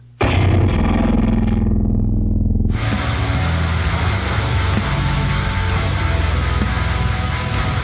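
Heavy distorted bass with a deep sub-octave layered beneath, sustained and loud, growing fuller and brighter partway through.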